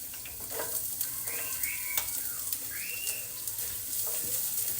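Oil sizzling in a frying pan, a steady close hiss with light stirring clicks, while faint rising and falling chirps sound in the background.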